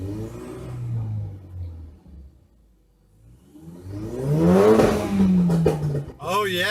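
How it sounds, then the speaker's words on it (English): A Ford Focus RS with a newly installed turbo idles, quiets, then is revved hard in a rising, swelling blip that drops back down before a second quick burst, close and loud, with a brief voice near the end. "I'm ready to give it some revs and see if we can make a little bit of boost here."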